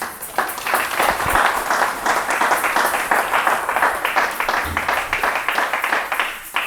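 A church congregation applauding during a service, a dense, steady burst of many hands clapping in a large room that keeps up for several seconds, with some voices mixed in.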